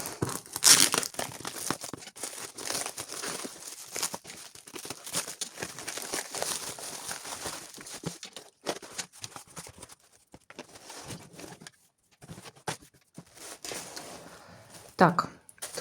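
A parcel from the post office is opened at close range, with plastic and paper wrapping tearing, crinkling and rustling in irregular bursts and pauses.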